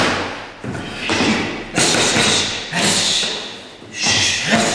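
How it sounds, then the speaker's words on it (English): Ground-and-pound punches, elbows and hammer fists land in a series of heavy, close thuds at an uneven pace during a workout drill. "So all your punching, your elbowing, your hammer fist"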